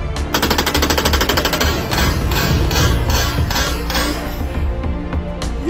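Rapid bursts of a toy Nerf double-barrel gun firing, a dense run of sharp clattering shots and mechanical snaps that keeps going steadily at close range without pause.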